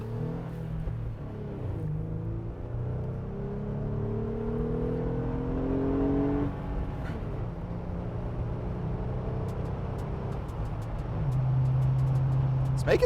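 A manual Jeep Wrangler JL Sahara accelerating onto a highway, heard from inside the cabin as a steady engine drone with rising harmonics that climb and shift through gear changes, loud and continuous under road noise.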